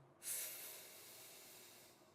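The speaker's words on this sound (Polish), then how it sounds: "wypuszczam e, powietrze przez usta takim syczącym dźwiękiem" A long hissing breath is pushed out through the mouth during a relaxation breathing exercise, starting abruptly after a brief quiet moment, loud and close, then fading slowly and steadily.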